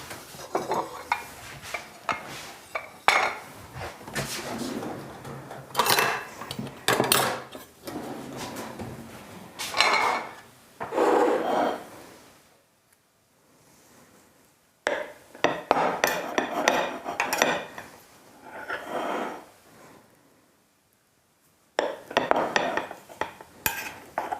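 Knife cutting through a freshly assembled Danish layer cake, with clinks of cutlery and plates as slices are lifted away; soft scraping and tapping come in bursts, then a pause before more cutting and plating sounds.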